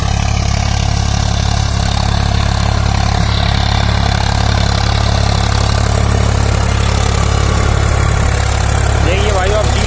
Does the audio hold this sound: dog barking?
no